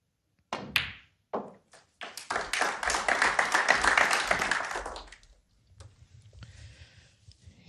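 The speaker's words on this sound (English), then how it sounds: "Yes, applause there" A snooker crowd at the World Snooker Championship breaks into applause, sustained clapping of a few seconds after some isolated knocks and taps, then fades out.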